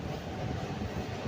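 A MEMU passenger train pulling into platform 1 on the Karimnagar–Sripur Town route, heard as a close, steady low rumble of rolling wheels and carriages, with no talk over it.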